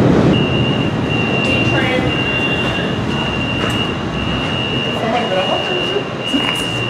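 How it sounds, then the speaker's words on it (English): Subway train at a Brooklyn station rumbling steadily with a high whine running throughout, brief rattles and squeals over the noise, and voices faintly present beneath it. "About to hop the train. Go hop the train."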